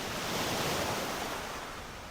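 Steady, dense rush of sea water, like waves heard from within the ocean, a continuous loud wash with no breaks and no voices.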